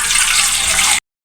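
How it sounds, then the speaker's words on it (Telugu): Water poured into a pan while making a homemade jelly cake, heard as a loud, close, steady gush for about a second before it stops abruptly into silence. "నీళ్ళు పోసుకోవాలి,"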